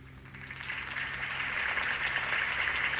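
Sustained crowd applause at a campaign speech in Batman: The Telltale Series, a dense wash of clapping that holds steady and swells slightly, with cheering mixed in and no talking.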